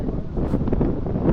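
Strong coastal wind at Fanad Lighthouse in Ireland buffets the microphone in a continuous, loud low rumble with gusty fluctuations throughout.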